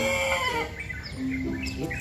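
A chicken clucks and squawks briefly up close, a few quick calls over a short moment.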